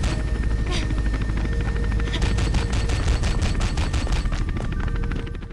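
Rapid bursts of machine-gun fire from a helicopter over a constant low rotor rumble in the mobile game Mirror's Edge, dense and loud throughout, with game-like effects layered in.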